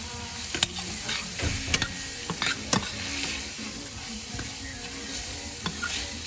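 Onions are stirred into a sizzling frying pan for Haitian macaroni au gratin, with a steady soft sizzle under scattered scraping clinks of a utensil against the pan and no talking.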